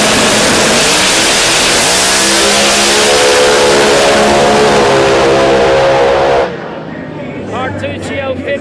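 A ProMod drag race car accelerates hard down the track, its loud engine climbing steadily in pitch for about six seconds before cutting off abruptly, leaving quieter distant crowd and track ambience.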